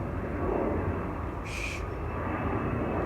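Airplane passing overhead outdoors, a steady, broad rumbling roar filling the whole stretch at moderate distance, with no talking.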